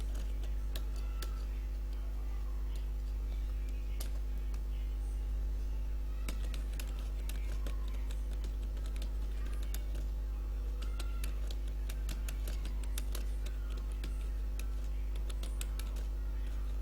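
Typing on a computer keyboard while entering a web page paragraph: scattered light key clicks tap in irregular runs over a steady low electrical hum, fairly quiet and with no talk.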